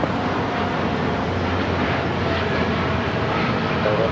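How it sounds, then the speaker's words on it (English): A United Airlines Boeing 787-9 Dreamliner at LAX gives off a steady, broadband engine roar, continuous and fairly loud with no break, as the jet departs for San Francisco. "3916 taking off to San Francisco on the 787-9 Dreamliner"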